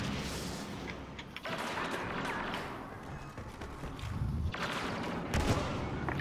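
Gunfire in a multiplayer shooter match: sharp shots and thudding bursts crackle repeatedly at close range, dense and fairly steady, with brief low impacts mixed in.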